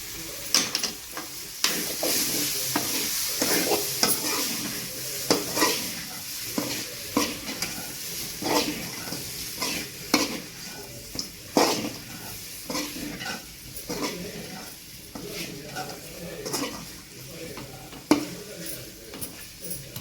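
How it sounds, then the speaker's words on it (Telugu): A zero-oil chicken fry with chili powder and coriander is stirred in a hot pan, with repeated scraping spatula strokes over a steady sizzle in an uneven rhythm, loud and close throughout. "కొంచెం కొత్తిమీర వేసుకొని కలుపుకొని బాగా చేసుకున్నాం"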